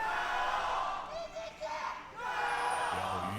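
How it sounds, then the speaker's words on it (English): An esports arena crowd roars and cheers during a League of Legends LPL match, a sustained loud wash of voices that dips briefly mid-clip and swells again. "Crowd still all riled up here in an even series, that's for sure."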